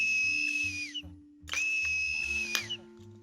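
An antique 1845 collectible whistle blown twice, each a shrill sustained blast that sags slightly in pitch at the end, with a short pause between and faint voices underneath.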